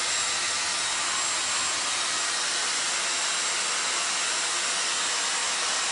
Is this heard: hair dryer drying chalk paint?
yes